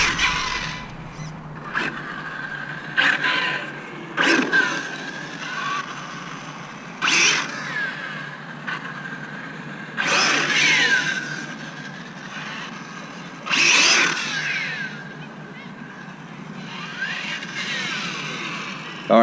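A Hobao VTE RC car whines in repeated high-pitched bursts as it accelerates and passes, several loud runs separated by quieter gaps over a steady background.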